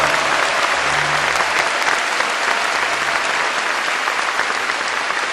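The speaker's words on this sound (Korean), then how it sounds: "더 큰 힘찬 함성과 박수로 참 어머님을 단상에 모시겠습니다" A large assembly at the Seonghwa Ceremony bursts into loud, sustained applause and cheering to welcome True Mother to the stage, with dense clapping filling the hall throughout.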